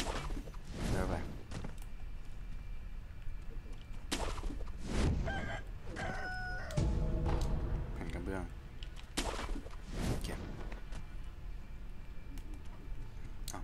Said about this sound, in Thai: ทำไมมันถึงมีไก่ที่นี่